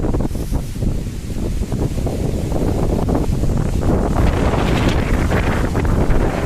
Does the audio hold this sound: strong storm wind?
yes